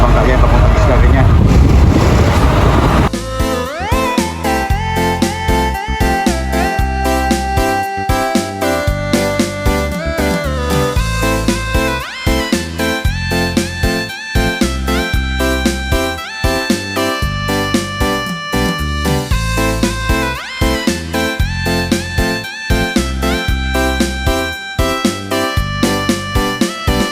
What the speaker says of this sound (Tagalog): mga bangka yan, papunta ng isla rin yan.